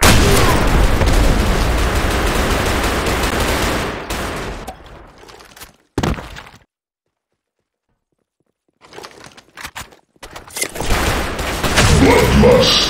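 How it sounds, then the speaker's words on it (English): A grenade blast and bursts of gunfire in the shooter game Blackshot: loud continuous firing and explosion rumble that cuts to near silence, then more shots and blasts return, with a voice briefly shouting. "Grenade!"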